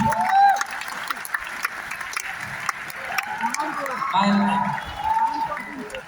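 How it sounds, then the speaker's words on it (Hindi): Audience applause at an awards felicitation event, a steady wash of many hands clapping for about six seconds, with someone talking over it throughout. "मैं कह रहा था ताली बजती रहनी चाहिए"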